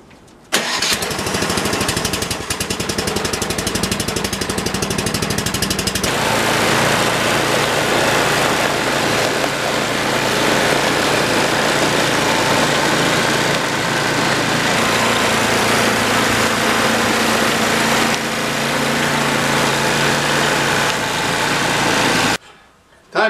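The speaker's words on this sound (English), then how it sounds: "and having that snow blower going" A 27-year-old snow blower's small engine roars loudly and steadily for about twenty seconds, its pitch shifting slightly under load, then cuts off at the end; no voices.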